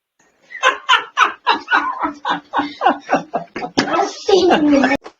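Dogs barking in a rapid, loud series near a doorway, mixed with a person talking and laughing over them.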